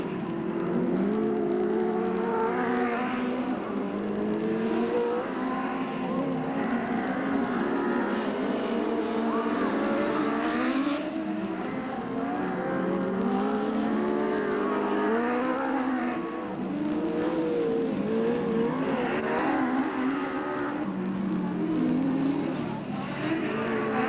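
Race cars on the final lap at Delta Speedway in 1997 make a continuous, fairly distant engine drone that swells and fades as cars pass, with no talk over it.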